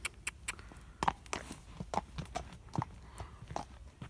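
A donkey walks on hard ground while being hacked out, its hooves giving an irregular series of soft clip-clop knocks close by over light background noise, with no clear talking.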